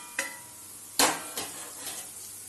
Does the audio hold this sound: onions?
yes